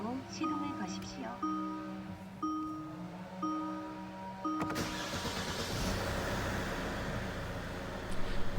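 Kia K7 2.2 diesel engine, a car with an R-series engine, starts with a chime-like tone pattern first, then a sudden loud catch at about 4.7 s and a steady, close diesel idle rumble that runs to the end.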